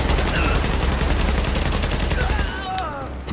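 Dense, rapid gunfire from The Division on PC crackles in sustained bursts throughout, loud and close, with brief distant shots layered behind.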